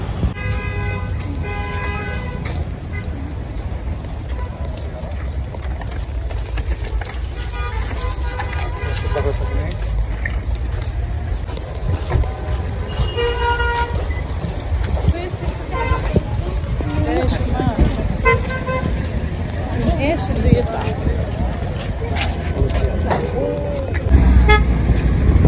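Busy street traffic in Nablus with repeated car horns honking near and far over a constant engine rumble, with voices talking throughout.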